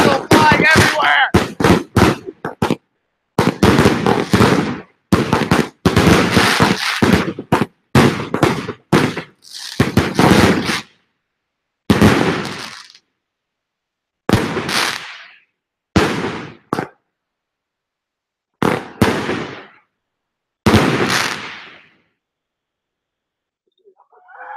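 New Year's fireworks bursting outdoors in a valley, a rapid crackling barrage of sharp bangs followed by spaced single loud explosions, each trailing off in echo.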